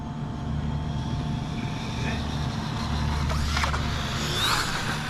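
A Losi Promoto MX 3s radio-controlled motorcycle pops a wheelie outdoors, its motor giving a steady, fairly loud drone that rises into a brief higher whine near the end.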